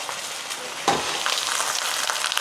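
Chicken thighs for a Greek dish fry in a pan with a continuous bright sizzle and crackle, steady and close, with one louder spit partway through.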